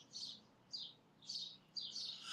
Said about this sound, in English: the birds are ridiculous here. Early in the morning, late at night